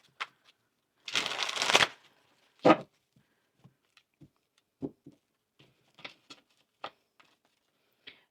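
Tarot cards being shuffled: a brief riffle of rustling cards, then a sharp snap followed by scattered soft taps and flicks as cards are handled and laid out, close and clear with no talking.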